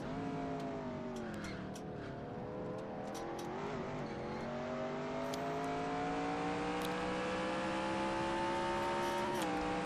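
Engines drone in a NASCAR video game race replaying the 2011 NAPA Auto Parts 200, a pack of cars holding steady whining pitches that slowly climb, with faint ticks and clicks scattered above the continuous roar.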